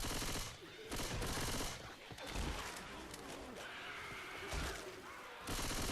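Gunfire in the video game Left 4 Dead 2 comes in loud, dense bursts with short pauses between them, and a voice is briefly heard underneath.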